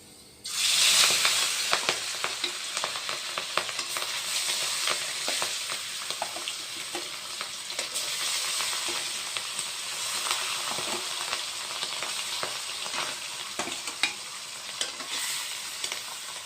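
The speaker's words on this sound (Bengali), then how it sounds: "এখন আমি কড়াইতে তেল দিয়ে মাছটা ভেজে নেব" Steady, loud sizzling of fish frying in hot oil in a wok, a continuous hiss with scattered pops and crackles, close up and without talk.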